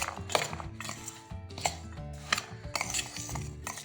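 Garlic cloves tossed with salt, chili powder and mustard powder for a pickle, giving soft clicking scrapes of cloves and a utensil against a bowl in several uneven strokes, quiet and close.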